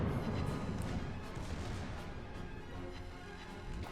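Secondary guns on a warship firing in a naval battle video game, a continuous dense barrage of booming, crackling shots that stays loud and close throughout.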